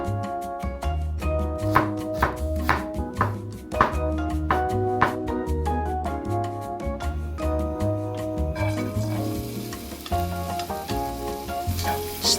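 A kitchen knife chops vegetables and shiitake mushrooms on a board, with quick, evenly spaced cuts under steady background music.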